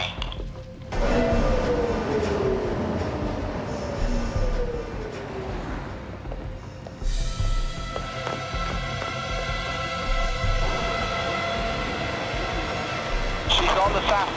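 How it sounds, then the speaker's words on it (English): Southbound tram pulling into a stop, a long rumbling approach with a falling tone and steady rail noise, then braking hum and a brief high squeal near the end, with voices talking over it. "There's a southbound tram pulling in."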